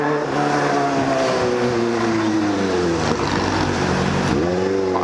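A motorcycle fitted with an extremely loud exhaust drones close by, its engine pitch sliding slowly down and then jumping back up with a sharp rev near the end.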